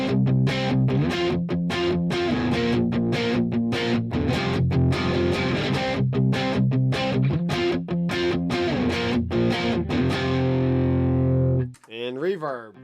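Electric guitar power chords played through a Headrush amp with no reverb, loud, distorted and rhythmic with sharp chopped stops between chords for about twelve seconds, then a brief fade into a swirling tail.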